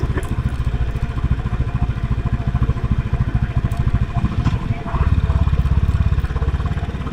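Motorcycle ride on a motovlog trip toward Dandiganahalli Dam, with a steady mid-pitched engine drone and wind rumble running throughout, a little louder in the final seconds.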